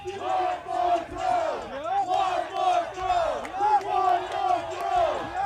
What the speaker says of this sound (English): The crowd is yelling for one more throw.